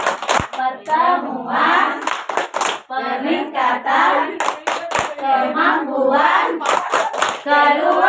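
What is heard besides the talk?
group doing the P2K2 clapping chant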